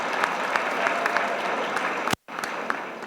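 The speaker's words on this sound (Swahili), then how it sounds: "Safi sana, tuwapigie makofi jamani." An audience claps steadily at a Catholic church teaching session, many hands in a dense continuous round with a few sharper claps, briefly cut to silence near the end before the applause resumes.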